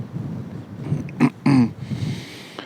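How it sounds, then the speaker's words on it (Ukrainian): Outdoors by a garlic field, gusts of wind buffet the microphone with low rumbling bursts and brief whooshes. "Трохи у нас вітер"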